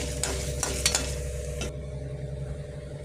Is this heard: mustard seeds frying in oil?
yes